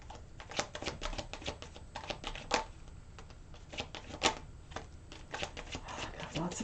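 Rapid, crisp riffling of a tarot deck being shuffled in bursts by hand, close and fairly quiet, with soft card slaps and a faint voice murmuring underneath.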